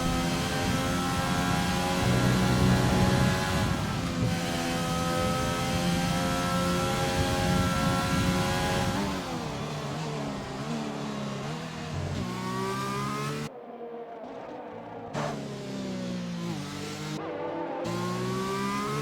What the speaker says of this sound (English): hear what it's like running a wet McLaren around a wet racetrack here at Silverstone